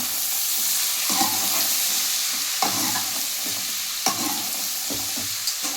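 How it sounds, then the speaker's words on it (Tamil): Spiced vegetables with turmeric being stirred in a hot pan, a continuous sizzle broken by several scraping spoon strokes and small clatters at irregular intervals, close and free of talk. "கொஞ்சம் மஞ்சள் மஞ்சள் இது எல்லாமே நல்லா கிளறி விட்டுக்கலாம்"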